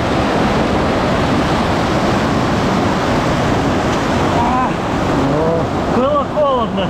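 A rushing mountain river crossed on foot fills the scene with a loud, steady roar of churning water. A voice rises briefly over the torrent near the end.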